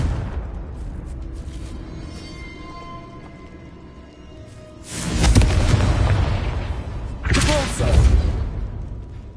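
Two loud booming blasts from a Confringo explosion spell in the Hogwarts Legacy video game, the first at mid-clip and a second shortly after, rising over a low ambient game background with no talking.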